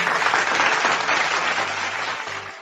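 Applause from an audience during a live radio show, a dense, steady wash of clapping that stays at an even level throughout, with no clear voice over it.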